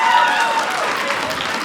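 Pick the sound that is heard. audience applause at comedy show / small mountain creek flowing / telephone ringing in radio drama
audience applause at comedy show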